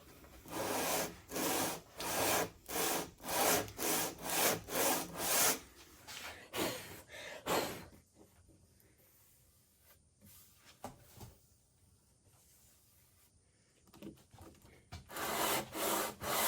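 Sandpaper stuck to the waxed bottom of a hand plane rasps back and forth over wood in a loud, even run of strokes, then goes quieter and scattered before the rhythmic strokes return.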